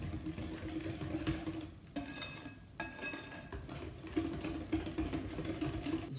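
A kitchen mixer whirs steadily while blending homemade pumpkin pie filling, a continuous motor hum with brief dips and scraping clinks against the bowl, fairly quiet throughout.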